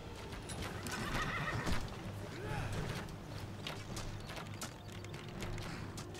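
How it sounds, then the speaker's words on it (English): A horse in the Skyrim video game gives a loud whinny over clip-clopping hooves, with footsteps and mechanical game sounds around it and faint talking in the background. "let's get off the stupid horse"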